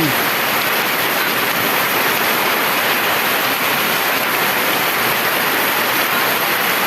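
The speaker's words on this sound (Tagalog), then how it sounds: "Lakas na ulan." Heavy rain pours down steadily in a residential subdivision, a dense, continuous close roar of falling water with no pauses throughout.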